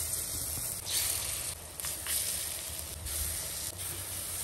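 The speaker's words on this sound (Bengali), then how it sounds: "এখন তেল দিয়ে দিচ্ছি বড়া ভাজার জন্য" Lentil fritters (bora) fry in hot oil in a heated wok, giving a steady close sizzle with bursts of sharper crackling and hiss as batter meets the oil.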